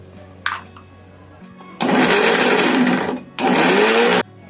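A mixer grinder grinds roasted dry coconut, whirring loudly in two bursts, a short pause between them, after a few faint clinks.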